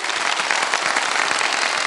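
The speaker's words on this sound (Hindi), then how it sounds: "चले एक दफा तालियां बजा दें" A studio audience at a quiz competition applauds, dense and steady clapping filling the whole moment at a loud, even level.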